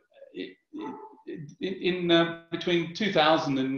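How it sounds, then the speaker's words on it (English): A dog barks in short bursts under continuous foreground speech during an online conference talk, the barking mixed closely into the talking voice. "sorry about my dog barking here."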